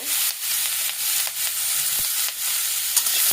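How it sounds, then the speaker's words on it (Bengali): Beans and potatoes fry in hot oil with a constant bright sizzle, broken by a few sharp clicks and scrapes of stirring close by, and no one speaks. "দেখুন এখন আমি তেলের মধ্যে দিয়ে দিব সিম আর আলুটা। এটা আমি একটু তেলে ভেজে নিব।"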